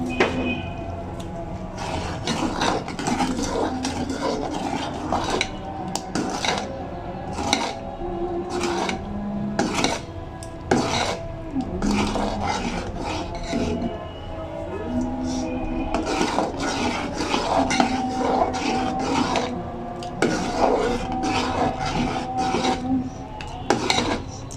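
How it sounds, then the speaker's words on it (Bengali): Sugar being stirred into carrot payesh in a pot, a spoon repeatedly scraping and clinking against the metal in an uneven rhythm, close and moderately loud. "আমি এখন ধীরে ধীরে নেড়ে নেড়ে আমি আর একটু শুকিয়ে নেব।"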